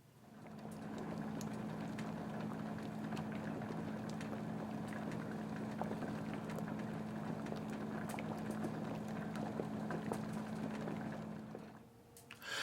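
A pot of peeled, quartered potatoes in salt water comes to a boil, giving a low, constant bubbling rumble that holds steady for several seconds before trailing off, with no one talking.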